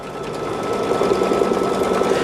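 A sewing machine stitches fabric in a steady, fast, close, loud whirring run, rising slightly as it gets going, with no talking.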